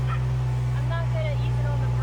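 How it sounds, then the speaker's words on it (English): A Kubota X900 utility vehicle sounds its horn, a short honk over the vehicle's loud, steady engine drone. "There's the horn for those of you who haven't heard it yet."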